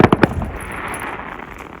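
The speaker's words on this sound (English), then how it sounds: "then just saw fireworks starting to happen" Outdoor fireworks going off in a short rapid burst of three loud pops, followed by a rolling crackle and echo that slowly fades.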